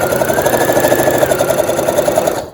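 A sewing machine runs steadily, stitching elastic onto a child's face mask with a fast, even mechanical whir and needle patter close by, alone without talk.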